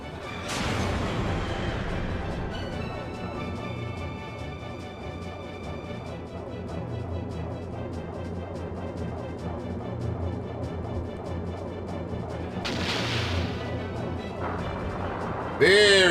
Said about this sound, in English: use the 3-foot cannon because it has a limit of 3 extra shots